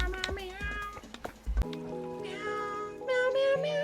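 A person imitates a cat, voicing a quick string of high meows one after another with shifting pitch, close and fairly soft, with a few bumps and clatters near the start.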